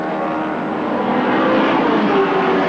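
Ford Sierra touring cars race past at Winton during a 1990 Australian Touring Car Championship round, giving a dense, continuous engine roar that swells slightly as they go by, with no talk.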